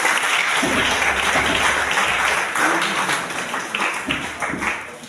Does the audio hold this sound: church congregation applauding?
yes